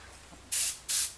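Two short bursts of gloss clear coat from an aerosol spray can, each a loud steady hiss lasting about a third of a second, separated by a brief pause, with no talk.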